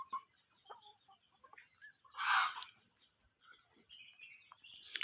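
Farm chickens come to eat rice before roosting, giving sparse quiet clucks with a louder burst of flapping or scratching midway, all fairly faint against a still evening background.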